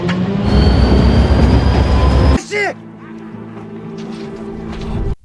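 A train in the Korean zombie film Train to Busan rumbles loudly along the rails, then cuts off sharply with a brief metallic screech. A quieter, lower rumble follows under background activity, ending with a sudden bang.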